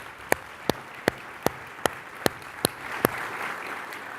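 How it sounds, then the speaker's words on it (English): Applause at a tech marketing conference, heard as eight sharp, evenly spaced claps over a low crowd murmur, like one person clapping close by while the room applauds softly. "Let's give you a round of applause."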